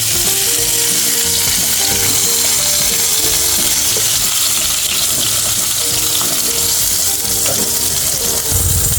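Pre-boiled chicken pieces frying lightly in oil for Arabic chicken kabsa, producing a loud, continuous sizzle with faint clinks of a utensil.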